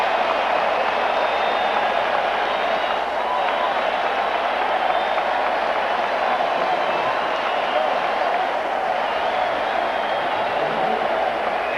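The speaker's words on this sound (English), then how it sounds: "He got a great ovation from the crowd here." A large stadium crowd applauds and cheers in a sustained, steady ovation that holds at an even loud level throughout, with no pauses and the roar filling the whole space.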